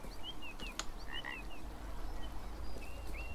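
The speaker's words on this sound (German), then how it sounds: "War das gerade ein Frosch? Ja, das war ein Frosch." Frog croaking in the game Beyond Eyes, a few short bright croaks scattered over a steady ambient forest bed with chirping birdlike calls, no one talking.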